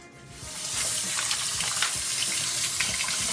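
Tap water runs steadily into a kitchen sink as bok choy is rinsed, a continuous hiss with small splashes and spatters throughout.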